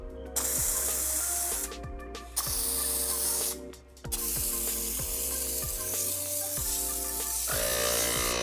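A pressure water spray hisses steadily across a coated car during a wash, close and continuous with brief breaks and changes in pitch as the jet moves, with mechanical clicks and a low motor hum underneath.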